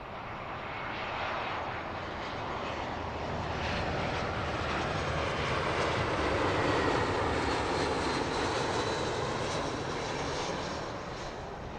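An airliner landing on Heathrow runway 09 left, its engines building to a broad, distant roar that swells over several seconds, peaks in the middle and eases off toward the end, with no voices.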